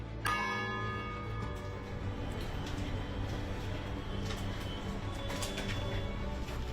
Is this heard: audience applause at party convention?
no